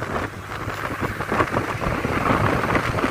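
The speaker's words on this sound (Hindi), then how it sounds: "इसमें मौसम बारिश का है और यहाँ बारिश हो भी रही है" Steady rain falls in Hyderabad in a dense, even hiss with scattered droplet patter, continuous and fairly close, with a low rumble underneath.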